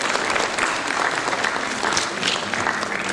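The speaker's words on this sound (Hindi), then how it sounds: "एक बार तालियों के साथ इस मंच का हम अभिनंदन करें।" Steady, dense applause from an audience at a stage event during the Bundeli Mahotsav 2023 festival, sustained and fairly loud throughout without pause.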